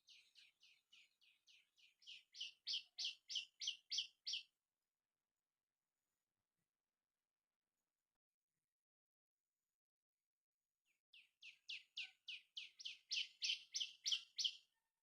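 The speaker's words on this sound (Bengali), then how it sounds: "কত রকম পাখির আওয়াজ দেখুন বাগানে," A bird in a garden sings two bursts of quickly repeated high chirps, each rising in loudness to a clear peak, separated by several seconds of silence.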